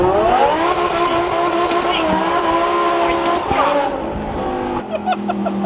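Twin-turbo Lamborghini Gallardo sliding across a Las Vegas street slick with vegetable oil, its engine droning loud and steady with tire squeal and shifting revs, voices talking over it throughout.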